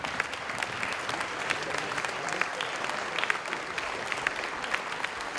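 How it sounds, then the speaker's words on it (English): An audience claps for standing 8th grade parents at a school recognition ceremony, a sustained crowd applause with crisp individual claps scattered through an even, moderately loud bed. "Give them a round of applause."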